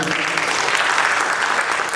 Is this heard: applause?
yes